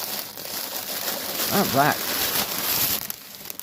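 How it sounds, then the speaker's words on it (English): Small gold scissors snip open a plastic bag holding stamped cross-stitch kits, giving crisp crinkling and a couple of quick cutting snips up close, with a voice speaking briefly. "Let's find out what's inside the bag. Here's if I can get it open."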